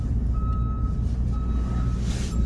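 Box truck idling with a deep, steady engine rumble while reversing beeps sound in two short bursts over it, close and loud, with no talk.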